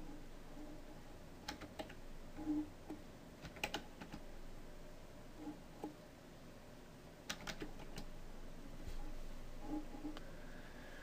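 Keystrokes on a computer keyboard while drafting in AutoCAD, faint and sparse, coming in short scattered clusters of clicks against a quiet room hiss.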